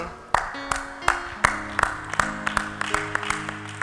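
A church congregation bursts into applause, scattered sharp claps building into steady clapping with sustained musical tones underneath.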